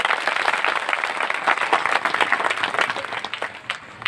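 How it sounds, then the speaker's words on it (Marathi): A kirtan audience claps together in dense, steady applause that stays loud and continuous throughout. "तुम्ही कशी टाळी वाजवली असती तशी वाजवा बरं"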